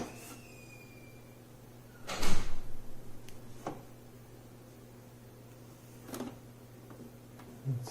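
Plastic ink access door of an HP OfficeJet 8025 wireless all-in-one inkjet printer lifted open, one clear clunk near the middle with a few lighter clicks and taps afterward over a quiet room hum, no talking.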